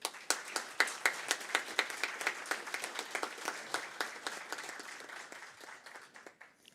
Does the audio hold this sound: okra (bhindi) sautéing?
no